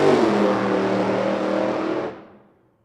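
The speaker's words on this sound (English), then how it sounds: "Car didn't sound right, so Alex gets out of the throttle." An A-Fuel funny car drag racing engine roars loud and steady, then cuts off abruptly as the throttle is released and the sound fades out.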